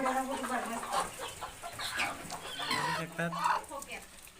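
Chickens cluck and murmur close by in short, overlapping calls, including a hen sitting on eggs in a coop, with a busy farmyard background in the Konkan region.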